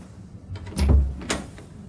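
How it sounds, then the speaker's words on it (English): A door being closed carefully, with a soft swing followed by a muffled low thud and a lighter latch click, close and moderately quiet. "She closed the door carefully behind her."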